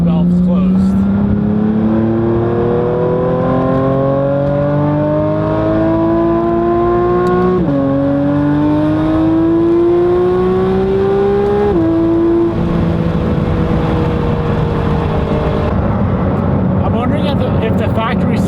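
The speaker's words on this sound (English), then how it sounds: "Let's do a rip, full-on rip, valves closed." A Porsche 992 GT3 RS with a titanium exhaust, valves closed, revs hard and continuously, its loud, steady engine note climbing in pitch through several long pulls with brief dips between them.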